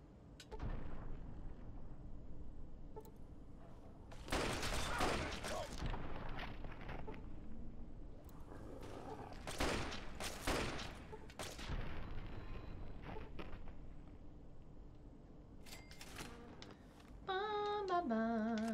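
Grenade explosions and gunfire in Fallout 3 during a fight with Talon Company mercenaries, several sharp booming blasts and shots spread across the stretch, fairly faint, with some mechanical clatter between them.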